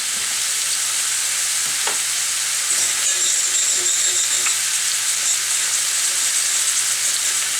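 Zucchini frying in a pan gives a loud, steady sizzle and crackle from start to finish, close up, with a few light clinks and no talk.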